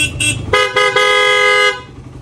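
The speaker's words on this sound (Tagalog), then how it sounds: "Tapos meron siyang busina, loud, stock horn." A Yamaha Raider 150 motorcycle's worn stock horn gives a short tap, then a loud, slightly wavering honk of about a second, close by.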